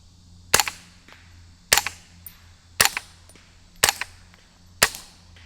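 Five evenly spaced, sharp suppressed gunshots ring out one after another from a rifle fitted with a full-size Echo Zulu Defense Atom suppressor. Each crack is followed by a short mechanical clatter and a brief tail.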